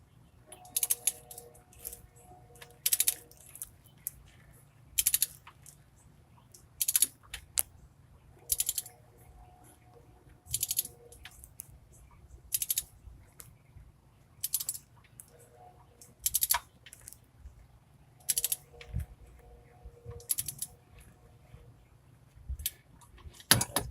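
A ratchet tightens bolts on the up-pipes of a 2000 Ford 7.3 diesel. It clicks in short bursts repeated at a steady pace, close by, with pauses between the strokes.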